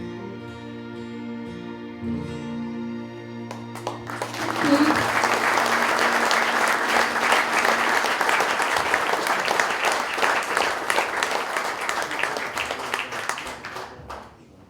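An audience breaks into sustained applause after a sung tribute to fallen soldiers, the clapping swelling in over fading music and holding as a dense, even roar for about ten seconds before tapering.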